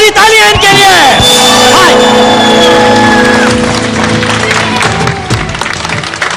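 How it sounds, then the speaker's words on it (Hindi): A studio audience at a television game show applauding an elderly couple married in 1946, a loud, steady roar of clapping and cheering that dominates throughout, with a musical tone ringing under it and easing off slightly near the end. "बहुत सारी तालियां इनके लिए।"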